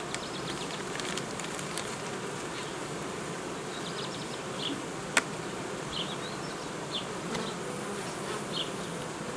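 A dense swarm of honey bees in a makeshift nucleus hive hums continuously close by, with occasional single buzzes passing and a brief sharp tap midway.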